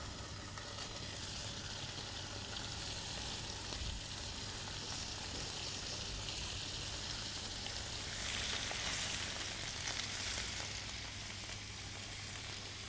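Lamb meat sears in a hot pan for a homemade mechwi, a steady, even sizzle hissing continuously at moderate volume with no voices over it.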